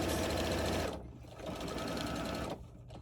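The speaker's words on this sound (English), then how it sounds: "we're just going to stitch along down the edge of this quilt" Sewing machine stitching binding along the edge of a quilt, a loud, close, rapid whirring hum in two bursts separated by a brief slowing, then easing off at the end.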